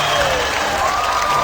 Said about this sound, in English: Look at that crowd. That's the Luminosity cheering section right there.